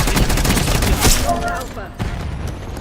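Rapid bursts of gunfire in an online shooter game, loud and dense, rattling almost continuously.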